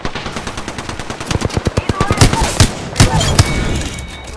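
Enemy gunfire in a video game: rapid automatic bursts, loud and close, the shots quickening into a dense crackling fusillade with a few heavier single cracks near the end.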